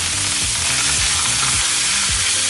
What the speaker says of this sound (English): the idea here is really just to sear these off very nicely